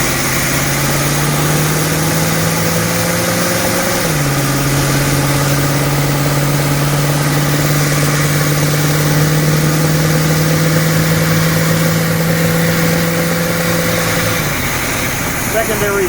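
A carbureted car engine idles with its secondaries still closed, giving a loud, steady rumbling drone. The pitch steps down once partway through and dips again near the end.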